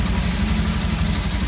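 A used Honda Beat automatic scooter idles close up, its small engine giving a steady, loud, low throb with a fast even pulse and no changes in speed, with no talking.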